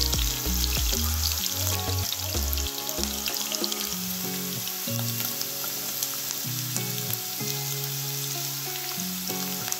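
Chopped cabbage stalks frying on browned onions in a pot for leftover-rice pulao, a loud steady sizzle and crackle running throughout, with music playing underneath.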